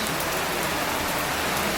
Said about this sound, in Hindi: बहुत दिनों के बाद मैं इतनी ज़बरदस्त बारिश देख रहा हूँ